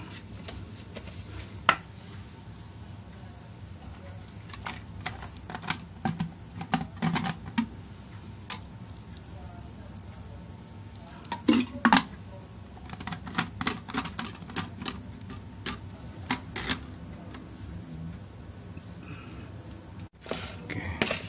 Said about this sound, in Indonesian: kita aduk terus hingga benar-benar rata